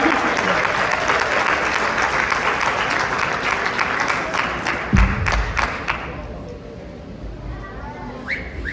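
A crowd applauds two volunteers at a live presentation, steady loud clapping with some cheering and a thud midway, fading toward the end as a voice comes in.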